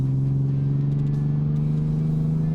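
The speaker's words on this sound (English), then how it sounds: "Number 2, Honda Goldwing Flat 6." A liquid-cooled 1,833 cc SOHC 12-valve Honda Goldwing flat-six motorcycle engine idles steadily, a smooth, even low hum with a strong pulsing drone and no talking.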